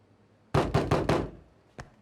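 Four quick, loud knocks on a door in a fast sequence, then a single fainter knock after a short pause, close by in a quiet room.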